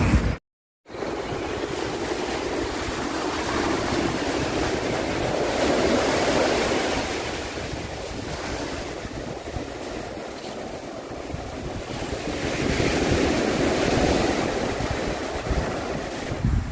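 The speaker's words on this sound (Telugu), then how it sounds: "కన్నూరులో ఎంతో విశాలమైన ఆది కడలాయి బీచ్ చూద్దాం." Surf at Adikadalayi Beach in Kannur, Kerala, on the Malabar Coast: a steady, broad wash of breaking waves with wind noise on the mic, swelling and easing in slow surges, with no voices.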